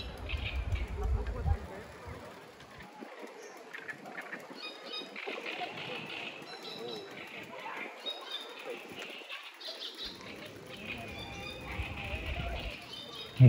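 Birds chirp and sing outdoors in Berlin on a sunny day, scattered faint calls rising over a low, steady background with voices nearby.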